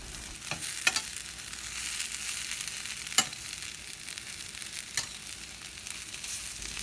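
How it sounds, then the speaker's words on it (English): Potatoes being stirred with red chili powder in a hot pan, giving a steady low sizzle with a few sharp scrapes and clinks of the spoon, close and alone with no talk. "Mix the potato for minimum 1 minute because it has to mix with the red chili"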